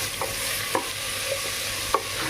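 Chopped vegetables stir-fried in a pot for vegetable biryani, a steady low sizzle with a few light spoon scrapes and clinks against the pot, no talking.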